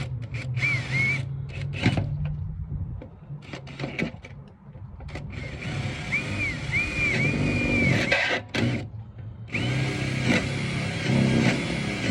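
A power drill boring into a mortise lock cylinder, whining in long sustained runs broken by brief stops, with pitch shifts as the bit spins and bites, loud and close.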